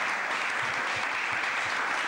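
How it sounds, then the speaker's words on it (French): A studio audience at a 1997 Moroccan television game show applauds a contestant with dense, even clapping that fills the whole stretch, loud and steady and with no talk. "on peut applaudir bien fort notre candidat"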